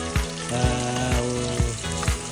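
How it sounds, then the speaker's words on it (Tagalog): Garlic fries in a hot pan with a steady sizzle. Low thumps of stirring or tapping land at a regular pace about every half second, close and moderately loud, with no speech. "saka natin ilalagay yung bawang"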